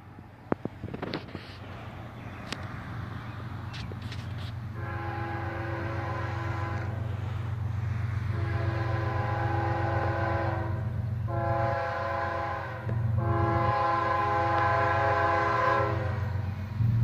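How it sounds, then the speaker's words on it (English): A CSX freight train led by an ES44DC and an older Dash 8 locomotive rumbles past close by, its multi-chime horn blowing several long blasts over the steady low drone of the engines and wheels. "This train's led by an ES44 DC and an old Dash 8."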